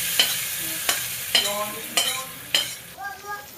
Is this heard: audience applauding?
no